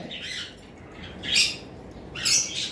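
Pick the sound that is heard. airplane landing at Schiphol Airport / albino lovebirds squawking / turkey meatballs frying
albino lovebirds squawking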